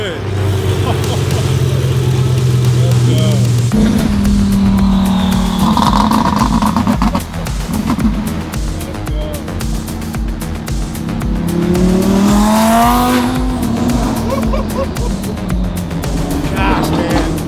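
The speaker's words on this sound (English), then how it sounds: "nothing like a great twin turbo V10" Twin-turbo V10 cars, including an Audi R8 and Lamborghini Huracans, rev and accelerate hard at a street car meet, with a steady high drone giving way to loud roaring passes, tire noise and crowd talk.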